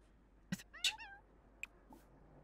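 A cat in The Sims 4 gives one short, clear meow, followed by a couple of faint clicks in an otherwise quiet game scene.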